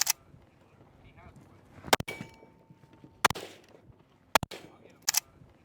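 A Kel Tec PR57 pistol fires at an outdoor range during a trade show's industry day, with about five sharp, spaced shots and some faint background activity between them.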